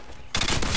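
Rapid automatic gunfire in Call of Duty: Modern Warfare 2 gameplay bursts in abruptly after a brief quiet moment, loud and dense with fast overlapping shots.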